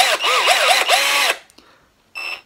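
A budget cordless power drill under $40 whirs loudly, its pitch swooping up and down as it speeds and slows, then cuts out and gives a short final burst.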